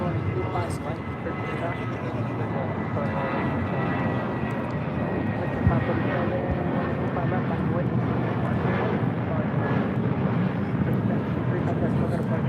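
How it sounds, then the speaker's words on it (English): A JetBlue Airways Airbus A320 takes off from LAX with a continuous loud engine roar and rumble, steady throughout, with people talking faintly underneath. "This is JetBlue Airways 1063 taking off to Puerto Vallarta on an A320."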